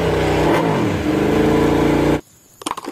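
A toy racing motorcycle gives a loud, continuous engine-revving whine that rises and falls for about two seconds, then cuts off abruptly and is followed by a few faint clatters.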